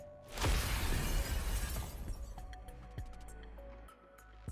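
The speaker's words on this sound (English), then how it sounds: "the crystal which is blocking our path shatters" In the Nikke game, a crystal blocking the path shatters with a loud burst of breaking and crackling. Tinkling fragments and clinks follow and fade out over a low game tone.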